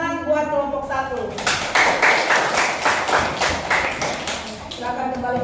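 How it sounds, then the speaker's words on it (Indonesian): A classroom group claps together at a teacher-training lesson at Universitas Khairun Ternate, a burst of fairly near applause lasting a few seconds between stretches of speech. "Tepuk tangan buat kelompok 1"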